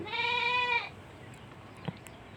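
A goat eating livestock feed lets out one loud, wavering bleat close by, followed by quieter background rustling and a faint knock.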